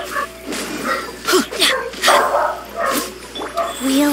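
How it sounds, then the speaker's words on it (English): A dog barks and yips in short, irregular bursts, fairly loud and close, with some whimpering calls mixed in among other background sounds. "I can hear our dog barking really loud."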